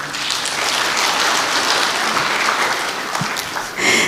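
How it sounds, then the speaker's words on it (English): Audience applause at a Correctional Service Week 2024 event as a session ends, dense steady clapping filling the hall at a loud, even level throughout, swelling slightly at the very end. "Clap for the speakers."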